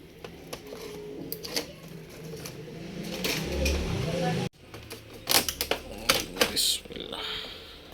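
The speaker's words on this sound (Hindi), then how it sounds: "नीचे कीबोर्ड निकाल लेंगे बाहर इसका" A Lenovo G550 laptop keyboard being pried out during repair: a series of sharp plastic clicks and snaps, with rustling and scraping between, close and fairly quiet, plus an abrupt break midway before more clustered clicks.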